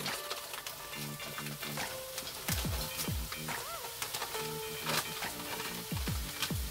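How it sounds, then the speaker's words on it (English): Frozen vegetables sauté with onions and ginger in a pan for a vegan bok choy dish, with a steady moderate sizzle and occasional stirring scrapes. "we're going to let this cook and saute for about 5 to 7 minutes"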